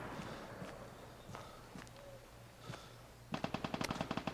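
Gunfire in the video game Vigor: a few scattered single shots early on, then a rapid rhythmic burst of automatic fire near the end, fairly faint overall.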